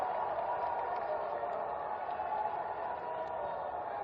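Sustained applause and crowd noise from a large audience at an open-air political public rally in Haldwani, a steady dense wash of clapping throughout with no distinct voices.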